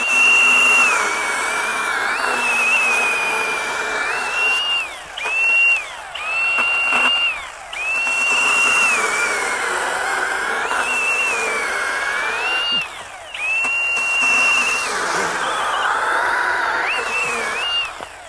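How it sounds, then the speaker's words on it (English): Loud, whining buzz of a Milwaukee M18 FUEL Hatchet 8-inch battery pruning chainsaw cutting through a thick log near its capacity, pushed with bucking spikes, pitch sagging under load and rising again in repeated passes with short breaks. "I'm literally putting more and more pressure on this thing by using those bucking spikes, and I'm a little blown away that I'm not stopping this saw"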